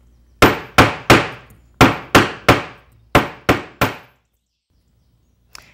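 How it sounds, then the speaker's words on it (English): Ten sharp hammer blows strike the back of a stamped silver cuff, coming in quick groups of three with short pauses between, each a loud metallic clang that rings briefly, followed by near silence. "So what we're going to do is hammer the back of this piece."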